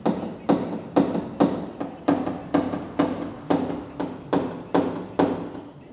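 Small bodywork hammer tapping out a dent in a car body panel, a steady series of about a dozen evenly spaced metallic taps, close and clear with no talk.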